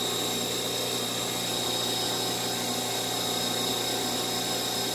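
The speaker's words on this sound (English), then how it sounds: "VMX42 HURCO with a full 4th axis rotary." A Hurco VMX42 CNC machining center with a full fourth-axis rotary, spindle turning at 5,000 RPM, gives a steady high whine over a constant broadband hum, moderately loud and unbroken, with no talk.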